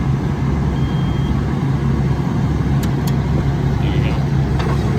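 Crown RC5500 forklift truck running on test after a multifunction control handle change, a loud steady motor drone with a constant low hum throughout and a few faint high beeps.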